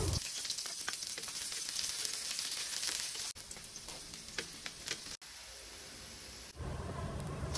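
Onion, garlic and ginger sauté in hot oil with a steady close sizzle and crackle, broken by a few brief cuts and a short quieter stretch.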